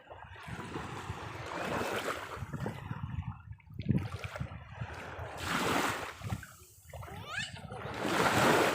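Children splash and play in clear shallow sea water at a sandy beach, with bursts of sloshing and churning water that rise and fall in waves. Nearby, close and moderately loud.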